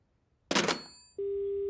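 A cartoon telephone gives a harsh burst of noise on a broken line, then a faint fading ring, then a steady continuous tone, loud and close with no talking.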